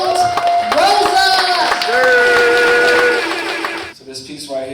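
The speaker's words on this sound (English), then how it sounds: "I want y'all to clap it up real big for Robert, quote, Rosa!" An audience at an unplugged poetry event claps and whoops for a poet, loud applause mixed with cheering voices and sustained shouts before fading into a few scattered claps.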